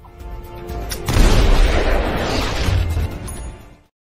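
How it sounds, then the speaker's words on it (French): A single heavy gunshot-like boom bursts out after a second and rumbles away over a few seconds, loud and close, with no voices. "J'adore les coups de feu comme ça."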